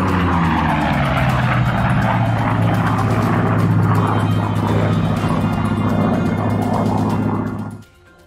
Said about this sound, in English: The Japanese called it Whistling Death because of a distinctive sound the Corsair made at high speeds.